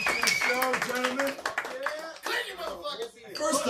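A live audience at a fundraiser show at The Saint applauds podcast guests with a burst of dense, lively clapping and scattered cheers, close and loud, under an enthusiastic voice.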